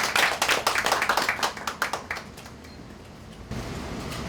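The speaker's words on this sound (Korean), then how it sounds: "박수로 맞아주시죠." An audience at a small business owners' meeting applauds as party leader Moon Jae-in arrives; a dense burst of clapping fades out over about two seconds, then the room settles into quiet murmuring hum.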